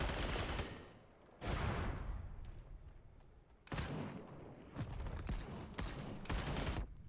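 Shotgun fire from the battle royale video game Super People erupts in loud bursts of blasts, with several separate volleys and short gaps between them.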